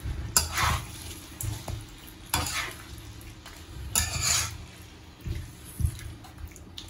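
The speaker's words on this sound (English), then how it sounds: "just give it a good stir" Chicken curry being stirred in a pot, a spoon scraping and knocking against the sides in repeated strokes over a low simmering sizzle, close and fairly quiet.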